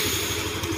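A Yamaha Mio 125 motorcycle, earlier low on oil, idles steadily and quietly at close range with a smooth continuous engine drone and faint mechanical clatter, no voices.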